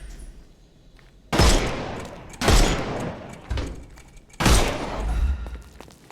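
Gunfire in the video game Sherlock Holmes Chapter One sounds as three loud, sharp blasts spaced about a second apart, each a heavy crack with a rumbling tail over faint background sound.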